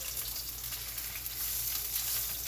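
Seafood frying in a pan gives a steady, even sizzle from start to finish, moderately quiet, over a low constant hum and with no voices.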